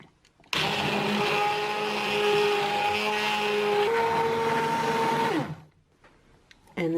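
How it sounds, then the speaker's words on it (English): A stick blender blending cauliflower soup whirs steadily for about five seconds, loud and close, then winds down and stops. "now I'm going to blend it with my stick blender"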